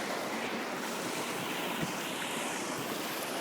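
A large waterfall in the Phrom Khiri hills gives a constant, dense rushing roar with no breaks or voices.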